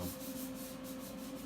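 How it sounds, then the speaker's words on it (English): A wooden kitchen cabinet, fragile and falling apart from water damage, being sanded by hand or machine: a steady, continuous close rubbing and scraping with no pauses and no voices. "we were sanding this because it's just falling apart"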